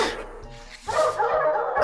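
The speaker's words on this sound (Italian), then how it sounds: "Abbaio più forte io." Short, sharp dog barks in the PS1 game 102 Dalmatians: Puppies to the Rescue, Royal Museum level, about four yips spaced roughly half a second apart, close and clear.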